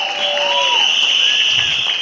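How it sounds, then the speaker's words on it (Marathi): Steady, enthusiastic applause from an audience at a Marathi film trailer launch event, a dense wash of clapping that holds at an even level throughout. "जोरदार टाळ्या आपल्या टॉपच्या टीमसाठी"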